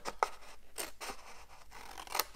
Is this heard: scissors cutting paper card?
yes